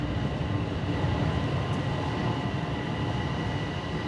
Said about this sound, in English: It sounds like one might be pulling in